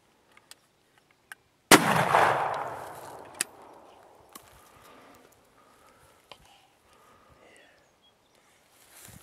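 A single-shot 12 gauge shotgun fires one Winchester Supreme 3-inch, 2-ounce turkey load outdoors, a single loud boom with a long rolling echo that fades over several seconds amid faint clicks and handling noise.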